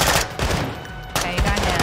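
Gunfire from the Call of Duty: Modern Warfare II video game, loud bursts of shots crackling through the whole stretch with a brief dip near the middle before firing picks up again.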